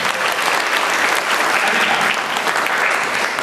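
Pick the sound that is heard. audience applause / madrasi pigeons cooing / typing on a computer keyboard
audience applause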